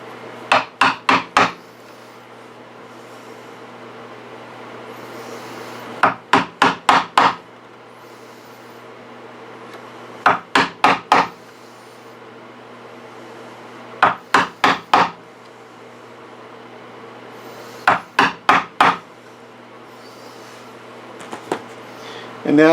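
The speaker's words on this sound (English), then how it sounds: "now we're going to basically chisel out just the depth of the hinge" A chisel tapped into wood to cut a hinge recess for a jewelry box, struck in quick bursts of three or four sharp knocks, each group separated by several seconds, close and crisp.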